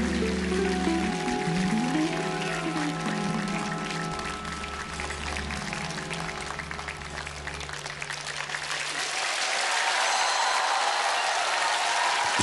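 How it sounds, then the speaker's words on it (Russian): Audience applause breaks out as sustained music fades, a broad wash of clapping building over the last few seconds. "Я тоже аплодирую."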